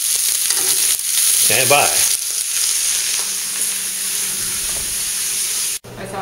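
Sweet potatoes and lamb chops frying in a pan, a loud, close, continuous sizzle and hiss, with a short spoken phrase early on and a brief cut near the end.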